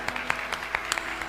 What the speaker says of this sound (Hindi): इनके लिए 2 बार ताली बजाइए।